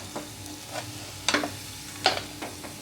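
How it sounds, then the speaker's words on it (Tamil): Two cardamom pods, two cloves, one star anise and two cinnamon sticks fry in oil, giving a low background sizzle broken by a few sharp crackling pops, two of them loud. "2 ஏலக்காய், 2 கிராம்பு, ஒரு அன்னாசி மொக்கு, 2 பட்டை சேர்த்து இதெல்லாமே நல்லா பொரிட்டுங்க."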